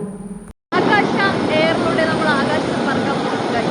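An Akasa Air passenger jet takes off from Bangalore, a steady loud engine roar heard from inside the cabin after a brief dropout, with a voice talking over it.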